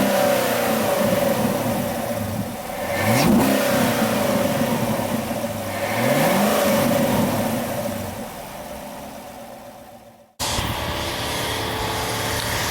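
Chevy Camaro SS V8 with a newly installed cold air intake, revved up twice in close succession with rising pitch and falling back, then a steady idle after a brief cut; loud and close, no talking.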